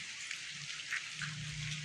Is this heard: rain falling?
yes